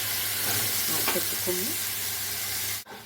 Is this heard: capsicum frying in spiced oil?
yes